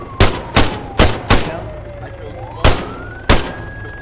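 Video game gunfire, six sharp shots in a loose irregular sequence, loud and close over a steady background hum with a faint whining tone.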